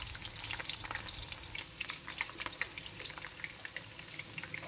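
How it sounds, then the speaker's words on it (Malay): Sliced large onions frying in leftover cooking oil, a steady close crackling sizzle with scattered sharp pops throughout and no voices. "Gunakan sahaja lebihan minyak masak ni. Masukkan hirisan bawang besar."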